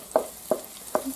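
Garlic and chili fry in a hot pan, stirred in three evenly spaced quick strokes over a soft sizzle, close and fairly quiet.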